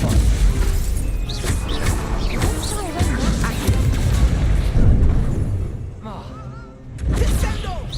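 Spell effects from the Hogwarts Legacy wizarding game, including a Stupefy stunning spell, land as several loud crashing, booming impacts and magical whooshes over game noise, while a voice shouts excitedly between them.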